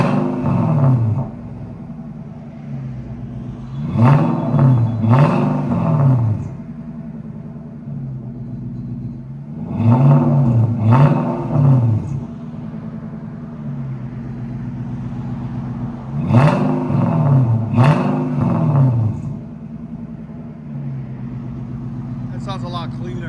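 An Infiniti M45 4.5L V8 without catalytic converters, breathing through a Jones exhaust, is revved in three separate pairs of quick blips that swell and fall back to a deep idle rumble, loud and nearby.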